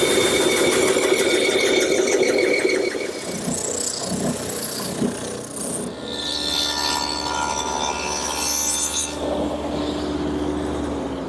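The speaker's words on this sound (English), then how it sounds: "I'll cut it at the bandsaw" A bandsaw cuts a wooden garden armchair piece traced from a cardboard template, its steady motor hum and blade whine rising to a harsher rasp as the blade works through the wood, loud and close with no talk.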